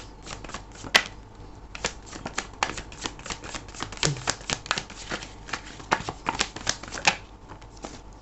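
Tarot cards are shuffled steadily at close range, a long run of quick crisp slaps and riffles coming in irregular clusters over several seconds.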